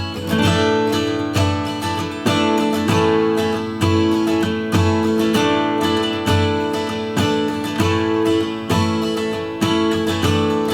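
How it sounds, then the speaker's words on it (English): Three stacked acoustic guitar takes, two of them capoed and one capoed very high, strum the same pattern in unison, a bright, full layered chord rhythm with steady repeated strokes throughout, loud and close with no talking. "Let me record 2 more takes and have triple track guitars."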